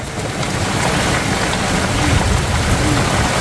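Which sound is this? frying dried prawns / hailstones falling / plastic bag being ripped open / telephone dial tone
hailstones falling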